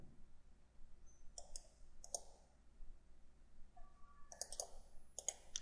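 Faint, sharp computer mouse clicks while modeling in SolidWorks or Inventor CAD software, heard in a quiet room as a few scattered single and double clicks.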